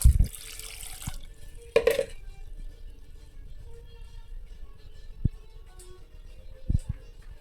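Water runs from a tap into a pressure cooker, a steady close stream broken by a few clunks and knocks of the vessel, no voices.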